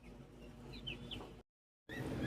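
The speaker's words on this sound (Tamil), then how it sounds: "கிரே கோழி முட்டை போட்டுக்கிட்டு இருக்குது" Grey hens in a row of coop cages give low, steady clucking and fowl murmurs, close and continuous, cut by a brief silent gap before the clucking resumes.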